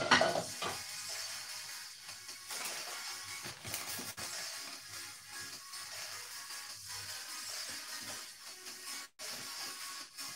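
Herb oil boiling in a pan gives off a steady, soft sizzle and hiss with faint bubbling and occasional stirring scrapes throughout.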